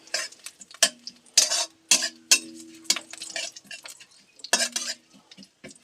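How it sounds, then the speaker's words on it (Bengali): Flattened rice and potato being stirred in a pan with curry leaves before chopped onion goes in, bursts of scraping spatula strokes against the pan over a faint sizzle, close and intermittent. "এবার একটু নেড়ে চেড়ে পেঁয়াজ কুচিটা দিয়ে দেব"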